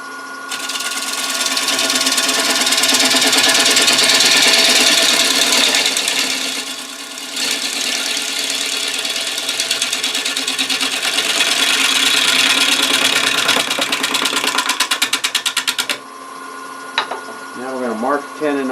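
A wood lathe spins a live edge walnut bowl with a steady, loud mechanical whir and tool chatter for about sixteen seconds, with a short break partway through, then drops away to quieter ambience.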